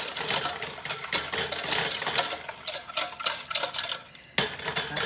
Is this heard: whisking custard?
yes